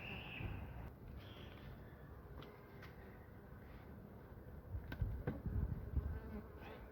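Honeybees buzz in a low, steady drone close by at an open hive, with a faint rumbling hum underneath and occasional small knocks.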